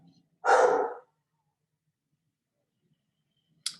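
A single sharp dog bark at the mailman arriving, loud and close, followed by a long silence and a brief high yip at the end.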